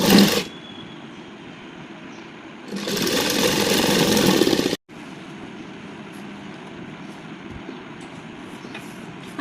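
A sewing machine stitching a baby frock whirs in a low continuous drone, with one louder, denser run of stitching in the middle, then a softer steady hum after a brief break.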